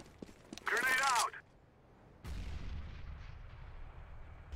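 A grenade explodes in a team shooter game, a loud burst near the start that rings out for about a second before a quieter rumbling tail, with a voice speaking over the blast.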